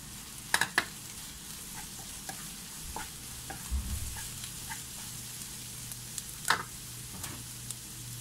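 Green chillies and onions frying in a pan for a Kerala prawn gravy, a quiet continuous sizzle broken by a few sharp clatters and scraping stirs near the start and end, with no talking.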